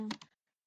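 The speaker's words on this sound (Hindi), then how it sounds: "मैं भी कुछ भी टाइप कर देती" A few quick keystrokes tapped on a computer keyboard, fading into silence after a brief flurry at close range.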